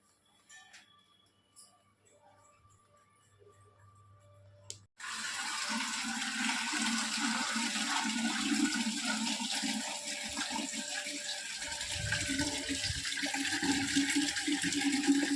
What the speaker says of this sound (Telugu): పంపులో నీళ్ళు పట్టుకొని రాగి బిందెలో తాగుతాం మేము